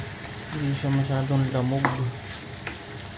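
Chopped tomatoes sautéing in a pan for ginisang munggo, a soft steady sizzle with a spoon stirring and scraping, and someone talking briefly over the cooking.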